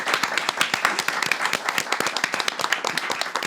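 A small group applauds in quick, uneven claps with individual hand strikes clearly distinguishable, close and fairly loud, a lively rattling clatter that holds steady for a few seconds.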